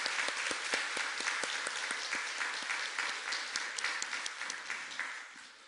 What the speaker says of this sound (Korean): 우리 한 번 더 박수로 영광 올려드리겠습니다